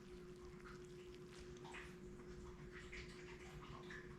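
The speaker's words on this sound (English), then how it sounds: "You can hear the salt breaking it down." Salt sprinkled on cut squash fizzes and crackles in a faint, continuous bubbling hiss with tiny scattered pops, heard close up beneath a steady low hum.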